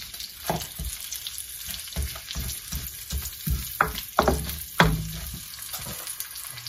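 Onion sizzles in a pan for stir-fried chicken, with a soft constant frying hiss broken by repeated scraping and stirring knocks of a utensil, close and with no talking.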